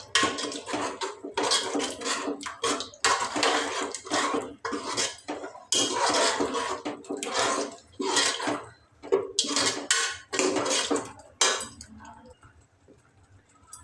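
A utensil scrapes and clanks against a pot while yogurt is stirred into egg biryani, a run of busy metallic mixing strokes in bursts that trail off near the end.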